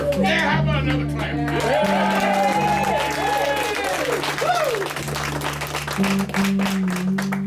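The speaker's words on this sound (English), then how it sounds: "how about another clap?" An audience at a live radio show in Nashville claps and cheers, a dense, loud burst of applause that lasts the whole stretch. Voices and a few whoops rise over it, with a steady low hum underneath.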